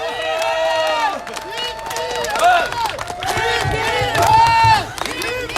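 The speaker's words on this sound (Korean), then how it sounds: "여러분 큰 박수로 맞이해 주시기 바랍니다." Rally crowd cheering and shouting at a Korean campaign event as a candidate takes the stage, a loud continuous roar of many voices with some clapping mixed in and a pronounced swell around the middle.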